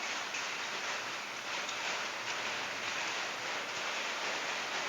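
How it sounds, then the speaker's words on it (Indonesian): Rain falls steadily in a constant, even hiss that holds at the same level throughout, with no voices or other distinct sounds. "hujan Bibs."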